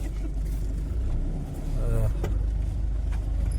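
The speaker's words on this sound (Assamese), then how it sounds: "গাড়ী ষ্টাৰ্ট কৰিছোঁ" A car engine starts and settles into a low idling rumble for a few seconds, close by, with a brief mechanical whir in the middle; a person speaks over it.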